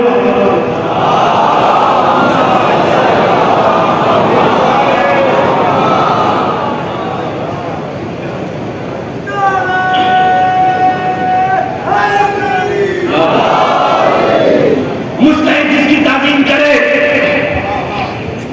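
A congregation at a majlis in Jogipura recites salawat together, a loud, sustained chorus of many voices in unison that swells, pauses, then rises again in chant-like waves.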